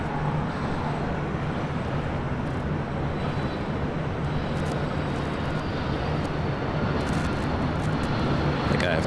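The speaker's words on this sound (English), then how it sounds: "Next up for arrival, Delta Airlines Flight 479 coming in from Boston, a 757-200." A Delta Airlines Boeing 757-200 arriving at LAX from Boston, its steady broadband jet roar filling the whole stretch at a constant, fairly loud level with no talk over it.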